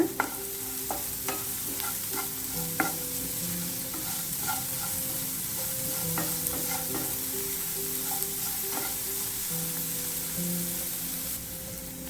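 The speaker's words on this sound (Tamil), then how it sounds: "உப்பு போட்டு நல்லா சேர்த்து கிண்டி விட்டுடுங்க" Steady sizzling of salted cabbage poriyal base frying in a pan, with repeated scraping knocks of a spoon stirring throughout, close up and without voices.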